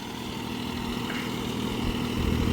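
A Mahindra OJA 3140 40 HP 4WD tractor puddling a flooded field, its engine droning steadily at a moderate distance with a low, even hum that builds slightly toward the end.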